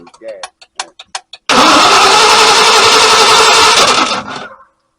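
Packard 327 straight-eight engine, fitted with a four-barrel carburetor, cranks and catches, then revs loud and steady for about three seconds before dying away, after a few short bursts of voices and clicks.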